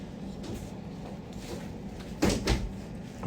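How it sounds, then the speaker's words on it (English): A door being closed indoors, heard as a soft thud followed by a second knock after a stretch of quiet room noise, fairly faint and close. "Can you close my door?"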